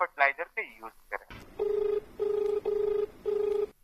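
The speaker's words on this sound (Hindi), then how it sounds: "एक फोन और आई गल बा" After a brief burst of speech, a telephone rings four times in steady, evenly spaced electronic tones, clear and close.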